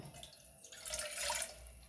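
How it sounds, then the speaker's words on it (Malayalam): A glass of water is poured into a pot to make rosemary water at home, giving a soft, steady splashing trickle that lasts about two seconds and swells slightly toward the end. "നമുക്കൊരു പാത്രത്തിലേക്ക് ഒരു ഗ്ലാസ് വെള്ളം ഒഴിച്ചു കൊടുക്കാം"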